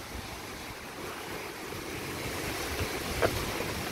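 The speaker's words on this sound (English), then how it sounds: "treacherous waves" Ocean waves wash steadily at Richardson Beach in Hilo at night, a broad continuous surf hiss with a faint low rumble and no voices.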